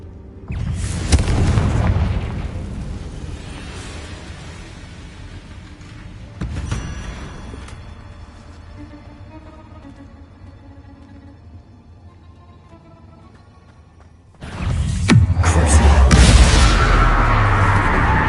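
Confringo explosive spells blast in the Hogwarts Legacy video game: a loud, deep boom opens, a second sharper blast follows a few seconds later, a long quieter rumbling tail lingers, then another heavy, sustained explosion erupts near the end.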